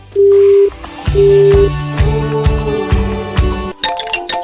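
An incoming-call ringtone plays on an Alpha Mini AI robot: loud, clear electronic tones in a bright melodic sequence of dings, ending in a few higher chimes.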